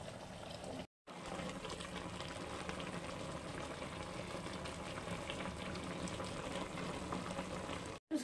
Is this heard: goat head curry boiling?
yes